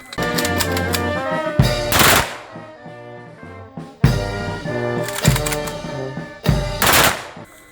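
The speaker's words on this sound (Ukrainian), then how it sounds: "Остання шана сержанту військовий салют." Rapid bursts of rifle fire crack out in separate volleys of a military funeral salute, loud and close, each followed by a ringing decay, with short pauses between.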